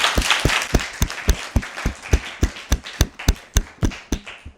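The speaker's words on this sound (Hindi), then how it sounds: "तो आप अपने लिए ज़ोरदार तालियां बजा लें।" Children clapping loudly in unison, a steady rhythmic series of about sixteen sharp, evenly spaced claps, close and crisp, with no talking.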